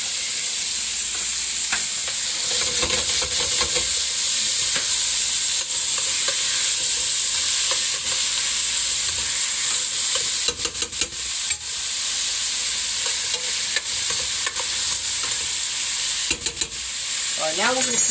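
Meat sizzles and is stirred in a pot with bay leaves, tomatoes and celery, a steady loud frying hiss broken by scraping stir strokes throughout, with no talk.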